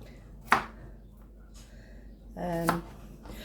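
Knife cutting a radish into very thin slices on a cutting board, two distinct chops a couple of seconds apart, fairly close, with a voice talking faintly between them.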